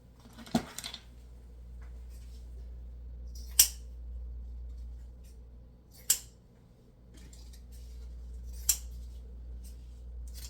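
Scissors snipping the tails of a bow ribbon for a patriotic grapevine wreath, four sharp separate cuts spaced a few seconds apart over a quiet low hum.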